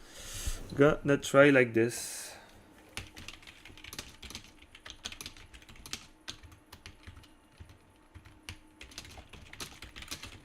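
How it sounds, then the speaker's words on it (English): Computer keyboard typing at a home music-review setup: a voice briefly at the start, then a long run of sharp, irregular key clicks close to the microphone. "I don't know how to change my setup so you don't hear the keyboard"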